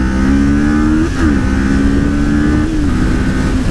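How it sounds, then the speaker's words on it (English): A Kawasaki Ninja 400 motorcycle accelerates hard in first gear, its engine loud and close, the pitch climbing steadily, then dipping briefly at two points before climbing again. "All right, here we go, real acceleration test."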